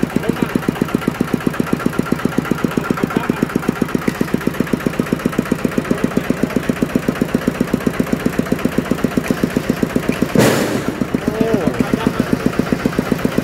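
A Kubota engine idles on a Thai farm truck with no load. It makes a steady, fast, knocking chug close by, and one brief louder clatter breaks in partway through.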